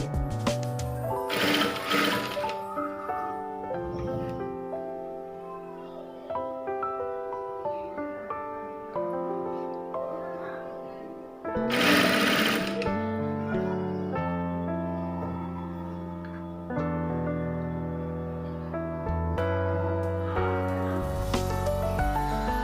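A sewing machine stitches folded cloth piping, a sustained mechanical whir with shifting pitch and brief louder bursts of running, close and alone without speech.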